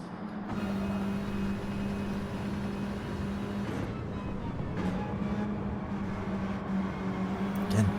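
Volkswagen Scirocco race cars in Gran Turismo run bumper to bumper through a set of esses at Trial Mountain or Autopolis, giving a steady, loud engine drone with a sustained tone that persists throughout.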